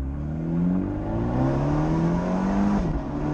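An automatic Abarth 124 launches hard from a standstill toward about 60, its engine climbing steadily in pitch through the gears with a clear shift near the end, close and loud.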